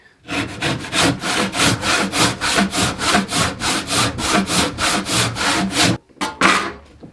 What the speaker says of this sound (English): Need a bit more oil on my saw here because it's sticking a bit.